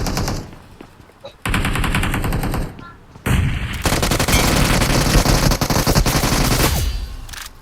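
Rapid automatic gunfire in a shooting video game rattles in loud, dense bursts that nearly fill the stretch, broken by a couple of short pauses before it cuts off.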